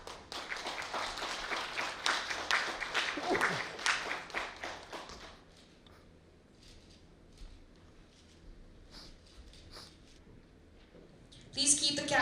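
Audience applause at a National Voters Day event at Raj Bhavan, Meghalaya: dense, sustained clapping from a crowd that fades after about five seconds to scattered taps and murmurs, then swells briefly again at the end.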